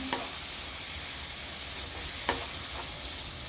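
Boneless chicken for a chicken thoran fries in a pan while being stirred, a low continuous sizzle with two distinct spatula knocks against the pan, near and without voices.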